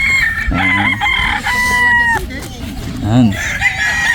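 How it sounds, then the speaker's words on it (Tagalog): Several gamefowl roosters crow loudly nearby at a gamefowl farm, their calls overlapping in a busy poultry yard full of constant background clucking. "Maraming manok po."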